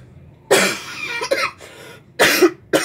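Several harsh coughs in a row, close and loud, with short pauses between them and a couple of shorter bursts at the end.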